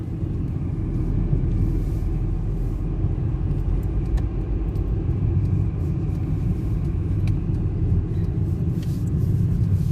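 A car driving on a road in England, a steady low engine and tyre rumble heard from inside the vehicle, constant and even throughout with no talking.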